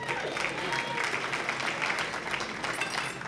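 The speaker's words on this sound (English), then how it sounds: "Round of applause, any married couples here tonight?" A comedy show audience applauds with a steady patter of clapping at a moderate, slightly distant level, and a voice speaks briefly over it.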